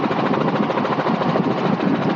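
A Robinson R44 helicopter at Stennis Airport heard from inside the cabin, a loud, steady rotor and engine roar with a fast pulsing beat and no talk.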